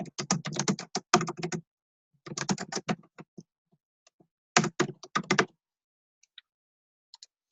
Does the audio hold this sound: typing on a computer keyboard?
yes